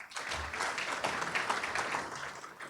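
At a city's State of the City live event, an audience gives a round of applause for the sponsors, a soft, steady patter of many hands heard from a distance for a couple of seconds.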